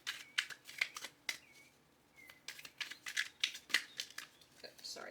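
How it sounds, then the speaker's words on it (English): Tarot cards are shuffled by hand in quick, crisp riffling bursts and snaps, clustered in two runs with a brief pause between, close and fairly quiet. "Shuffling."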